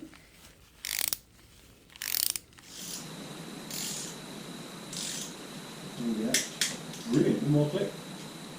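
A ratchet fitted with a 13mm socket works on a 2006 KTM 640 LC4 engine, giving a few sharp, close clicks and short bursts of ratcheting, with people talking at a low level between them.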